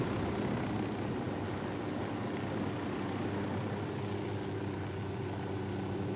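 A helicopter flies past in Ghost Recon Wildlands, heard as a steady, loud engine and rotor drone that holds for the whole stretch with no voices over it.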